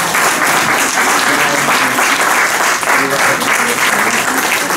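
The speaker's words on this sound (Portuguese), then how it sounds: "uma salva de palmas para eles" Audience applause for two narrators at a Portuguese village-memories romance event, dense sustained clapping filling the room steadily from start to finish, with a few faint voices underneath.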